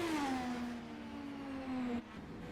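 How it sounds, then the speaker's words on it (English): IndyCar race car engines in a racing simulator at Mosport Park rev with a steady high whine that slides gradually downward, then cuts off sharply before a quieter engine hum continues. "Just listen to the engine as they rev through here."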